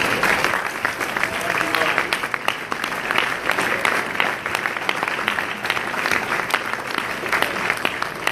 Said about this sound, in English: We want to give you a hand clap because moms are incredible.